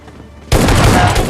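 Gunfire from the battle royale video game PUBG Lite erupts suddenly after a quiet half-second, a loud, close burst of rapid shots that continues to the end.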